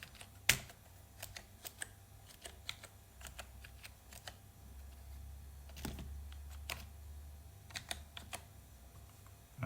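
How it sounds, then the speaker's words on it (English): Fingers tap out a password on a computer keyboard in a run of close, light, irregular key clicks, one sharper stroke near the start, in a quiet room with no talking. "Let me just paste there and then type the password."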